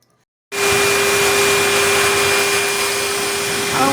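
A dog grooming blower dryer switches on abruptly after a brief silence and roars steadily and loudly at close range, a constant high-pitched whine riding over broad rushing air, with no talk.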